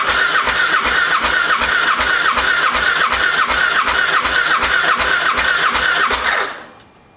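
Suzuki V-Strom DL1000 V-twin motorcycle engine cranking on the starter with one spark plug out for a front cylinder compression test. It makes a loud, even, rapid chugging with a whirring starter for about six seconds, then stops abruptly.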